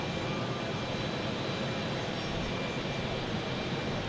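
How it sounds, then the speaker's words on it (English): An Embraer 175 jet airliner taking off at Logan Airport, a steady broadband engine roar holding even and fairly distant throughout, with no voices. "I think it's taking off, heading to Chicago, an Embraer 175."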